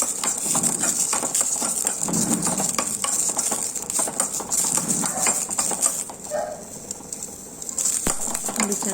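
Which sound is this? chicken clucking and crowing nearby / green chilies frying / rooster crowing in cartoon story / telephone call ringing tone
green chilies frying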